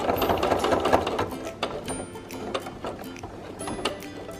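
A sewing machine back stitches the top of a pocket with a loud, close, rapid mechanical clatter of needle and gears, running steadily with small pauses and no talking.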